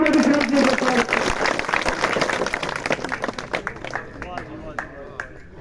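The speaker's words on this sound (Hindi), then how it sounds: "तालियां बजाकर भव्य विश्वनाथ जी को स्वागत करें" A crowd at a village political rally applauds to welcome a candidate, loud dense clapping that gradually thins into scattered claps as a voice speaks over it.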